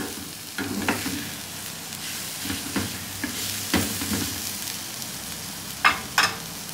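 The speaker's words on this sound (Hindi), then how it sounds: "ये फ्रेश अंडे और हरी मिर्च हमने शामिल कर दिए, तो इनको अच्छे तरीके से पकाएंगे।" Fresh eggs and green chilies cook in a hot pan with a steady, close sizzle, while a spatula stirs and scrapes in scattered knocks and a couple of sharp clinks near the end.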